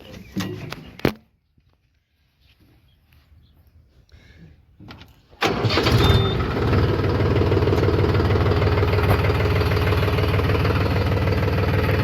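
A tractor on a village farm starts up after a quiet spell with a few faint knocks, then the engine catches abruptly and holds a loud, steady running drone close by.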